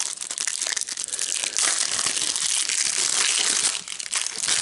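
A trading card pack wrapper being torn open and handled, giving a dense, continuous crinkling and crackling of foil-like plastic, close and fairly loud, with no voices.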